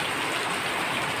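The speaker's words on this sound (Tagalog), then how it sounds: "lakas ng ulan eh" Heavy rain pours down steadily beside a house, a dense, even hiss of water with no pauses and no talk over it.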